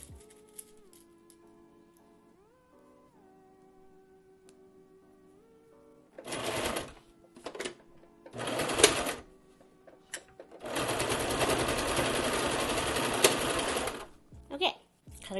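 A sewing machine stitches a fabric face mask in short close bursts, a brief run then two longer whirring runs, separated by quiet pauses with faint handling sounds.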